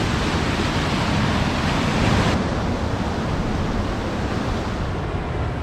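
A loud, continuous roar of rushing water that fills the whole clip without a break, steady and hissing like nearby waterfalls in the Victorian High Country.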